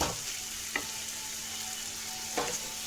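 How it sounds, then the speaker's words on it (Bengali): A spiced masala with tomato fries in oil for a pea and coconut ghugni, a steady close sizzling hiss broken by two brief stirring scrapes, with no talk. "দেখো সুন্দর তেল ছেড়ে গেছে মশলা থেকে, টমেটো থেকে"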